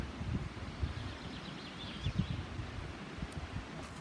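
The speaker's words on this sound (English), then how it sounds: "it's very windy, so we can see and hear all the trees" Gusty wind rushes through trees beside a tarn, leaves rustling in soft swells and fades, with a faint bird call somewhere in the distance.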